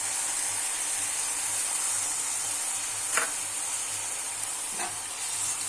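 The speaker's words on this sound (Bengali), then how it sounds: "সোয়া সস আর টমেটো সস দেওয়ার পরে আমি নাড়িয়ে নিলাম" Soy sauce and tomato sauce being stirred in a pan for cabbage manchurian, a steady sizzle and hiss throughout with a couple of brief utensil scrapes, no talking.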